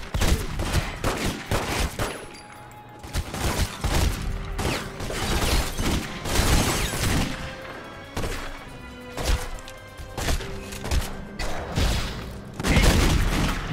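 Repeated bursts of gunfire in The Godfather video game, with loud, dense volleys of shots and thuds following one another over a steady game soundscape, and no talk.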